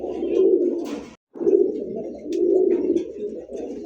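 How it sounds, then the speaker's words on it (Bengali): Large male Pakistani high flyer pigeon calling to a hen, giving repeated deep, throaty coos close by in three long phrases separated by brief pauses, with faint chirps in the background. "এটা হচ্ছে পাকিস্তানি একটা কবুতর, বিশাল বিশাল সাইজের একটা নর কবুতর। একটা মাদি দিয়ে এটা ডাক দেখানো হয়েছে"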